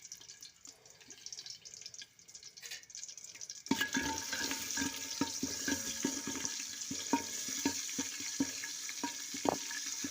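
Garlic hits hot oil in a pan and starts a loud, steady sizzle with crackling pops after a quieter opening, heard close up with no talking.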